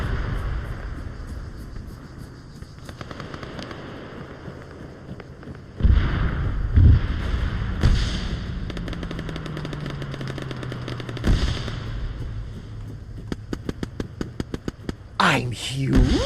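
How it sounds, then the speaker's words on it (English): A Titan launcher firing in DayZ, heavy booming shots at intervals with a whooshing trail after one, amid quicker gunfire-like pops and background game noise, with talking mixed in. "That's a Titan launcher."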